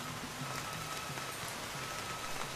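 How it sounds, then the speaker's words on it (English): Rain drums steadily down on tropical rainforest in Costa Rica, a dense continuous patter of drops on leaves and surfaces, fairly soft and heard alone without voices. "Once again, the rain is drumming down on the selva."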